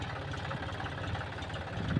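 A tractor ploughing a field, its engine chugging steadily in a low, continuous drone with faint irregular knocks, close and fairly quiet throughout, with no talk over it.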